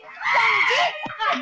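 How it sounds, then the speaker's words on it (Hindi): A woman screams loudly and sustainedly during a heated domestic quarrel, her high, strained cry lasting over a second, followed by brief softer vocal sounds. "क्या चिल्ला रही हो?"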